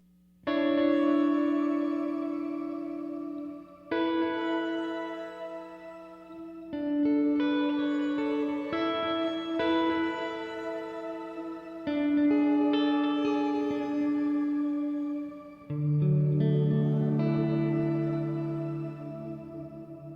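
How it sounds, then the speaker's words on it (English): Electric guitar chords pass through a Poly Effects Beebo granular effect drenched in reverb, ringing out as sustained, shimmering washes with weird smeared reflections, each chord swelling and hanging before the next, alone without talk. "Then after this module, I add in a reverb to drench the granular effect."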